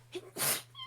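A single quick sneeze, a short close burst of breathy noise preceded by a faint intake, standing out against a steady low hum.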